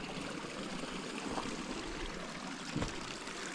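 Mountain stream flowing through forest along a Colorado Trail segment near Rolling Creek, a steady soft rush of water with no pauses, moderately distant and fairly quiet.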